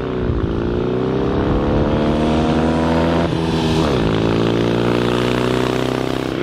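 A 1967 BSA Thunderbolt motorcycle engine runs loud and close, a throaty drone that dips and climbs with throttle changes, revving up near the middle, with no talking.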